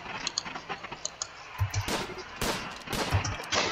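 Fast, light shots in RimWorld, heard as quick crackling clicks in short uneven bursts with a few heavier thumps, fairly quiet, no talk.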